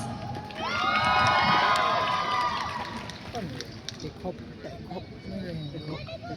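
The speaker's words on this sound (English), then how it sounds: "Let's give them a big round of applause." A festival audience cheering and shouting for beauty pageant finalists, with the roar swelling over the first seconds, then easing into scattered voices and lingering crowd noise as people talk.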